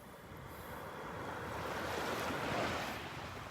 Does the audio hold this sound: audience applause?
no